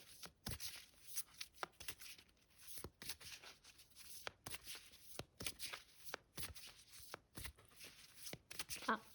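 Tarot cards being shuffled by hand, a quick series of crisp riffling and slapping bursts repeating through the clip, close and fairly quiet, with someone speaking softly at times.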